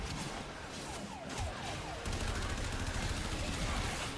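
Rapid AK rifle gunfire in the game Warframe 1999, a fast continuous rattle of shots, fairly quiet in the mix, growing denser partway through, with a faint siren-like tone.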